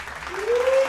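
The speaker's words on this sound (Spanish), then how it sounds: "Un aplauso para Gus Rocha." Audience applause at a comedy roast: a short burst of dense clapping that swells slightly, with a voice or cheer rising over it.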